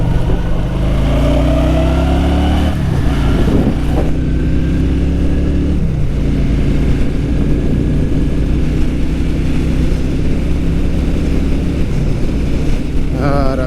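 A 750cc motorcycle of about 80 horsepower rides along a smooth road, its engine droning loudly and continuously amid heavy wind rush, with the pitch rising and falling as it shifts gears.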